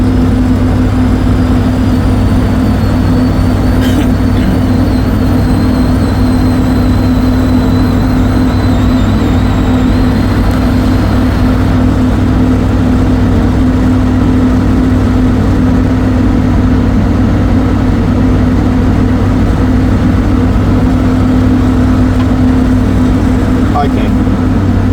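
Pile rig engine running steadily during pile installation, a loud continuous low droning hum with a strong steady tone throughout, no clear change in rhythm.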